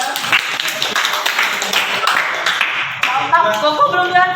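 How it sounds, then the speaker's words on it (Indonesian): An audience at a church youth service claps for a few seconds, the dense patter of hands mixing with chatter before voices and music take over near the end. "Oke, berikan tepuk tangan dulu semuanya ya"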